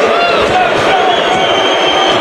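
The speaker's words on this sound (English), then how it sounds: "Crowd gets into it a little bit." A basketball arena crowd at a Roma vs Phoenix Suns preseason game roars and cheers in a loud, steady, dense wash of voices.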